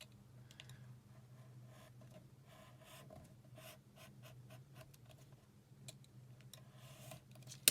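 Quiet scraping and slicing strokes of a utility knife blade through paper, short bursts in irregular rhythm over a low hum, close by.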